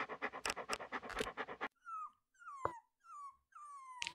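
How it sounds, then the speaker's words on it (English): A dog in a video game pants rapidly and loudly when petted, then lets out several drawn-out whimpering whines, close with no talking. "I'm gonna pet the dog."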